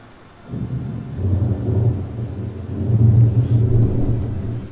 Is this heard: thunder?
yes